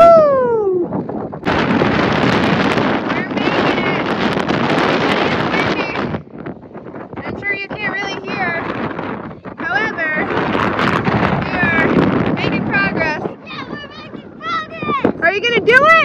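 Strong gusts of mountain wind buffet the microphone on a steep trail near Denali National Park, roaring in long loud bursts that drop away briefly between blasts, while a hiker talks through it.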